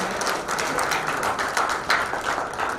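Steady, even applause from an audience at an NGO function in a hotel in Jodhpur, a continuous wash of many hands clapping at moderate volume throughout.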